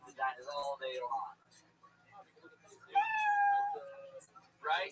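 A cat meows several times, some short calls and one longer, drawn-out cry in the middle, fairly close and clear over quiet background gaps.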